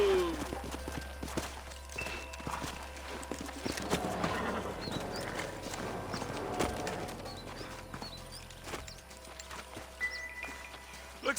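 Horses walk on the ground in Red Dead Redemption, their hooves clip-clopping steadily and fairly close throughout, over game ambience.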